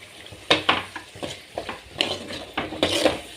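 Masala with turmeric is sautéed and stirred in a pan for chicken gravy, giving repeated scraping strokes and light metallic clinks of a spoon against the pan over a faint sizzle, close and without speech.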